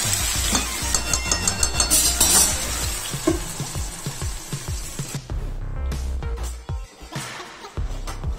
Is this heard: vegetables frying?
yes